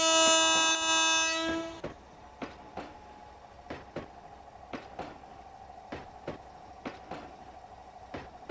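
A KRL electric commuter train, an old Tokyo-type unit, arrives in the Trainz Simulator game on Android. A loud horn blast opens, then steady rhythmic clicks of wheels over rail joints follow, with no talk.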